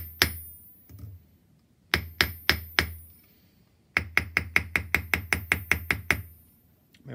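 A cross peen hammer forges sterling silver in close, sharp metallic strikes: a few scattered blows, then a fast even run of about a dozen ringing taps, with no talk.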